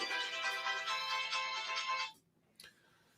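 Mobile phone ringtone playing a bright, repeating melodic tone for about two seconds, loud and close, then cutting off abruptly, followed by a brief faint blip and quiet room.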